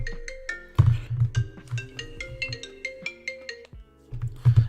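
A phone ringtone plays loudly and close, a bright melodic sequence of short electronic tones over a repeating low pulse, alone with no talking.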